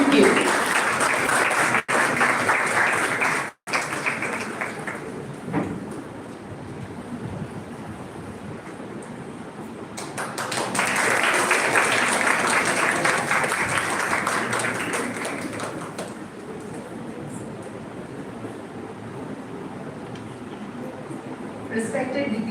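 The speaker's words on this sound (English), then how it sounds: "A big round of applause for all the kids and teachers." Audience applause fills a hall at a healthcare students' oath taking ceremony, a broad steady wash of clapping that swells again midway and carries on throughout, with some voices mixed in.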